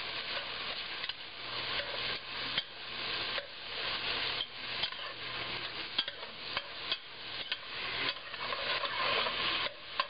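Peeled shrimp cook in a pan for pineapple fried rice, giving a steady sizzle with rhythmic stirring scrapes, close and moderately loud with no talking.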